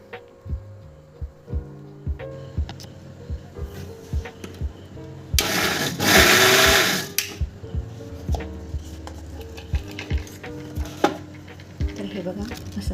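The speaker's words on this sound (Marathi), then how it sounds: "तर हे मी आता ना मिक्सरमध्ये याला थोडंसं फिरून घेणार आहे." Mixer grinder giving drained homemade paneer curds a brief pulse, a loud steady whirring burst lasting about two seconds between quieter kitchen knocks and clicks.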